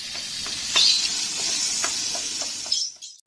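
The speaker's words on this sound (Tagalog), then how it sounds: "Ang unang ilalagay po natin sa paggigisa ay ang luya." Ginger sizzles steadily in hot Star margarine during sautéing, a bright continuous hiss with a few soft stir clicks, fading at the very end.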